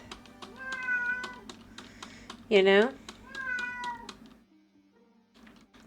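A cat meows in the game Minecraft, one clear, loud meow cutting through a stretch of casual talk and keyboard clicking.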